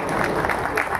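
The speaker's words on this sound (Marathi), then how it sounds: "सगळ्यांनी एकदा राजाभाऊसाठी जोरात टाळ्या वाजवा." A crowd at a bhajan singers' association gathering in Maharashtra breaks into applause: a short, dense burst of clapping mixed with murmuring voices, close and fairly loud.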